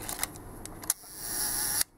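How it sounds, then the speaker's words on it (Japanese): Quiet mechanical click of a Rolleiflex 2.8F twin-lens camera with Planar 80mm f/2.8 lens, its leaf shutter set to one second: a soft opening click, about a second of faint hiss, then a closing click. "ローライフレックス特有のですね、非常に静かなシャッター音ですね"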